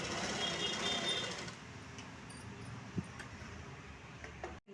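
A sewing machine stitches a saree fall along the fabric edge, a fast whirring run at first that settles into a quieter mechanical hum with a couple of small clicks, heard close and alone.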